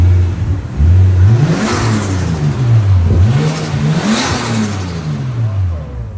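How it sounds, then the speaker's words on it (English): A warmed-up Nissan R34 Skyline engine revs several times in quick rising and falling sweeps, loud and close, with no talking over it. "since it's warmed up, let's give it a few revs, shall we?"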